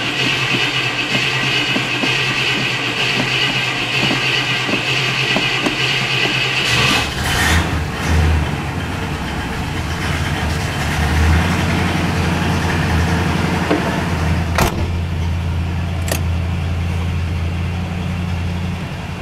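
A cold engine that has been pumped about 20 times catches and settles into a steady, loud idle, with a low rumble that shifts character partway through and a couple of sharp knocks later.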